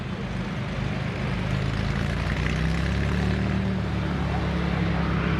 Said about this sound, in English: I hear an engine spooling up, I believe